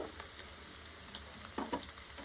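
Onion frying in a pan with curry leaves and turmeric for a brinjal masala, a soft steady sizzle with a few light scrapes of stirring, no voices.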